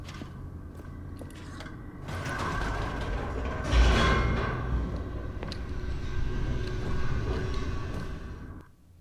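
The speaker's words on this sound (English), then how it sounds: "The elevator raced downward, plummeting towards an unknown fate" An elevator in The Stanley Parable descending, a low mechanical rumble and hum that swells midway with faint clanks and rattles, then cuts off abruptly at the end.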